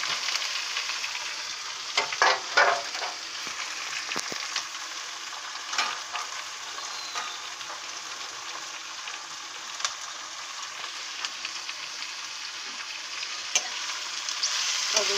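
Mixed vegetables (onion, peas, capsicum, cauliflower, potato and carrot) frying in a pan, stirred with steady scraping and scattered clinks over a continuous bright sizzle, close and alone with no talk.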